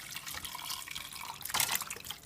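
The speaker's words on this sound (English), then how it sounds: "I have a bowl under the strainer, and pour everything in" Beef soup stock pours through a strainer into a bowl, a soft, continuous liquid splashing and trickling that swells briefly near the end, with no speech.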